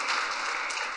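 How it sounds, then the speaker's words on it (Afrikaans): Church congregation applauding, a brief burst of dense clapping from many hands, fairly loud and even, with no other sound over it. "Kom ons klap so 'n bietjie hande vir hulle."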